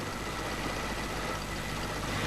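Conventional car engine idling steadily during a carburetor tune-up, a continuous even low rumble with no voices.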